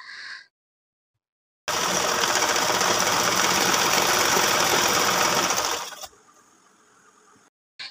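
A sewing machine top-stitches salwar fabric in one continuous whirring, rattling run of several seconds, loud and near, with a short faint tap before it and quiet motor hum after it stops.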